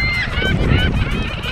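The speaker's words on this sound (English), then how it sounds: "Oh, the seagulls are pissed." Angry seagulls by a lake give a run of harsh, repeated calls, close and loud, one cry after another with no pause.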